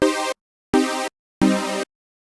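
Three separate chords played through FL Studio's typing-keyboard chord mapping, each the same chord in a different inversion, sounding as short, evenly spaced synthesized piano-like blocks with silence between them.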